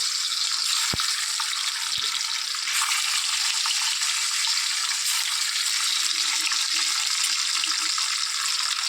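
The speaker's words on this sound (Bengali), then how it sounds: "তেল গরম হয়ে গেছে, তো ডিমগুলো ভেজে নেব" Eggs frying in hot oil in a pan, a steady bright hiss that runs unbroken throughout, with two brief sharp pops early on and no talking.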